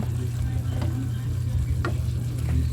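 Sauce with pepper is stirred in a pan for fried galunggong, giving a constant close sizzle and low frying hum with light scraping ticks from the utensil.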